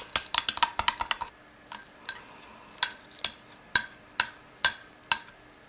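Cetyl alcohol thickening agent being stirred into oils in a beaker with a utensil, giving a quick burst of clinks and scrapes followed by slower, evenly spaced clinking strokes, close and fairly loud with no voices.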